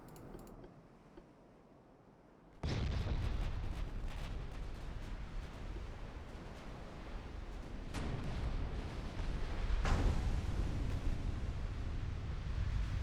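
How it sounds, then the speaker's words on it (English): Naval gunfire from dreadnought battleships in Ultimate Admiral: Dreadnoughts, heavy rumbling volleys that roar in suddenly after quiet, with further deep booms building through the passage, no voices. "Here comes another volley."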